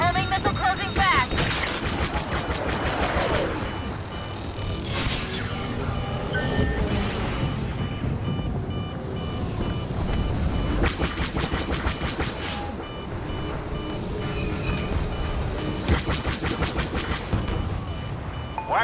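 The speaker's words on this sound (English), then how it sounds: "They're locking with a missile! Homing missile closing fast!" A homing missile locks on and strikes during a Star Wars Battlefront Walker Assault battle, heard as loud rumbling engine roar, sharp blasts and rapid weapon fire layered with shrill warning tones and radio voices.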